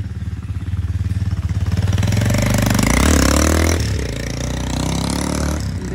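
A motorcycle engine runs close by at a gas station in Rayones, Nuevo León, revving up with a throbbing, rising tone before settling back to a steady idle.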